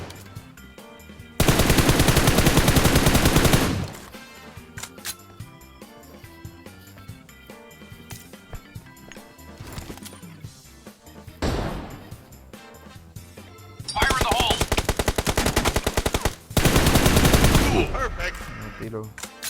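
Loud bursts of automatic gunfire from a shooting video game crackle in several long volleys with quieter gaps, while players chatter excitedly between the shots.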